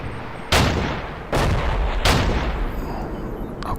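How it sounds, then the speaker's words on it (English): Mortar rounds land in three heavy, booming impacts roughly a second apart in the Combat Mission Market Garden war game, each followed by a long rumbling roar that carries on without any speech. "I've got mortar fire coming down."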